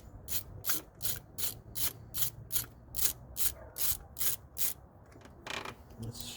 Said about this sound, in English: So I'm going to go and just loosen this clamp up.